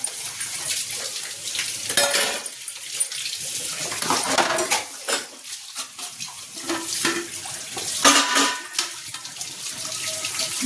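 Dishes, pots and cutlery clatter and scrape under steadily running tap water at a kitchen sink, with irregular close clinks and knocks over a continuous water hiss.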